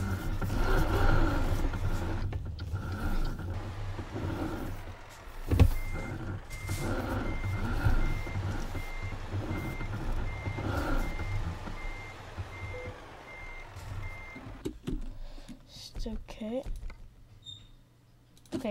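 Repeated reversing beeps from a truck in an Eddie Stobart trucking video game, a steady high alarm pulsing over engine rumble for much of the stretch while a person talks throughout.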